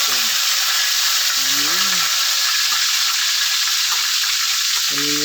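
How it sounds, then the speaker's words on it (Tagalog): Freshly caught tilapia fries in a pan, giving a loud, steady close-up sizzle and hiss throughout while someone speaks briefly in short phrases over it. "Yan, prito na tayo ng nahuli natin."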